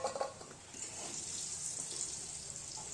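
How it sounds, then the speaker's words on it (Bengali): Boiled potatoes frying in oil in a pan for a Bengali vegetarian curry, stirred with a spatula, give a steady close sizzle with a few scraping clinks near the start. No voice is heard. "ভাজা খুন্তি দিয়ে নেড়ে ভেজে নিলাম"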